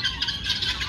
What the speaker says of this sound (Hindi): परिंदों के चहचहाने की आवाज़ें आपको सुनाई दे रही होंगी